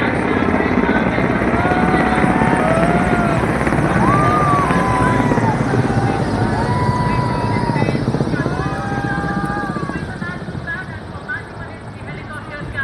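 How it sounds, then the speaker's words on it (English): A loud, steady rotor thump of armed forces helicopters overhead at the India Gate parade dominates, with a voice speaking over a loudspeaker beneath the noise. "helicopters carrying the signs of the armed forces"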